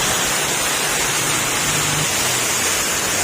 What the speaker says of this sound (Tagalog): papansin nyo mahinga yung background natin kasi lakas ng ulan mga sir oh